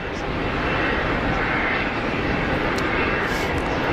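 Close by, an Iberia airliner taxis at Geneva Airport, its jet engines producing a loud, even rumbling roar that stays steady the whole time, with faint voices in the background.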